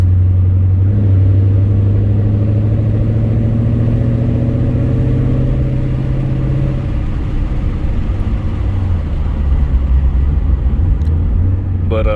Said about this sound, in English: like the chop sound of these Mustangs